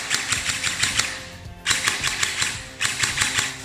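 An upgraded airsoft gun fires test shots in rapid bursts, three quick clusters of sharp clicking snaps separated by short pauses, close and fairly loud with no talk.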